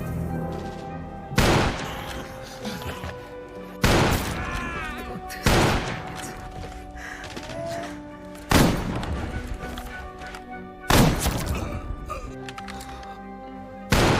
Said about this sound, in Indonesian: Clayman yang kewalahan malah harus terkena tembakan